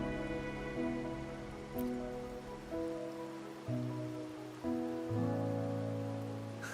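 Steady rainfall in the video game Wuthering Waves patters down, with soft, sustained musical chords shifting slowly underneath it.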